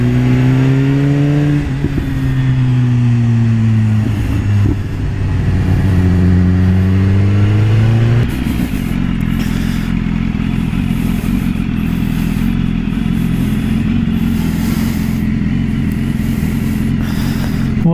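A BMW S1000RR sport motorcycle on a test ride, its engine rising and falling through revs with shifting pitch before settling into a loud, steady high-speed roar with constant wind rush.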